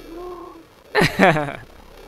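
A cat chirps when its fur is touched: one soft tonal trill is followed by a louder, brief burst of chirping, close up against a quiet background.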